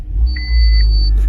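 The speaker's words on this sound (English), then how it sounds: "So if I just turn this on, we get lots of beeps, and watch this." A 2013 Honda Freed chimes as it is switched on, two brief electronic beeps at different pitches overlapping above a low engine rumble, close and clear.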